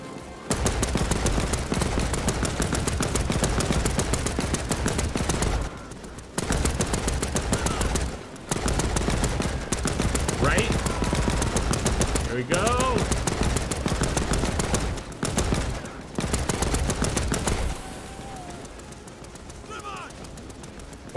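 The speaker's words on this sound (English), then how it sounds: "let's get back on the MG" Machine gun fire in the WWII game Land of War, set during the 1939 German invasion of Poland, rattles in long, dense, close bursts separated by short pauses, ending with a quieter stretch.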